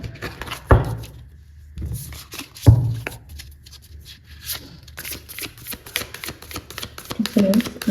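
Tarot cards being shuffled and drawn during a reading, soft papery riffles and slaps repeating through the clip with a couple of sharper flicks, while a voice talks over it.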